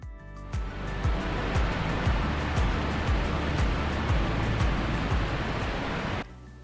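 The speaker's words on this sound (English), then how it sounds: "Water flowing from the well into the creek." Water flows steadily from the outlet of Montezuma Well into a creek, a constant rushing wash heard close and alone, broken by low bumps, before stopping abruptly near the end.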